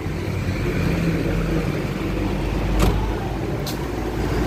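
Idling Kia Picanto engine with the air conditioning running, a steady close-up rumble with strong low vibration and a constant hum, plus a couple of faint clicks, no talking.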